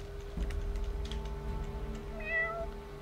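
A cat meows a couple of times, faint and soft, with a thin electronic chirp and a steady tone behind it, apparently from a game soundtrack.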